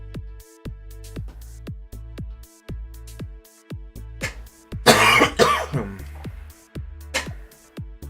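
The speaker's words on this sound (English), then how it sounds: "Sorry that my coughs are probably awful to hear in the mic." A sick streamer coughs into a close microphone in a cluster of harsh, loud bursts midway through, set against rhythmic plucked music and some throat clearing.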